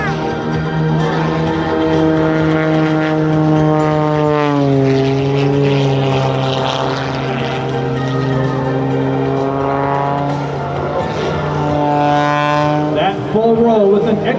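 A propeller aerobatic plane at an air show climbs into a tight inside loop, its engine droning loudly and continuously, the pitch sweeping down then up as it turns, with an announcer talking over it.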